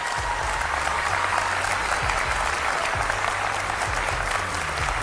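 Studio audience at a Ramadan television game show breaking into applause, a dense sustained wash of clapping from a large crowd, loud and even throughout.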